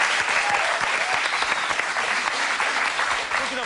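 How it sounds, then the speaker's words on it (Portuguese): A television studio audience applauds steadily, dense clapping filling the whole few seconds at close range. "Uma salva de palmas para o João Blumel."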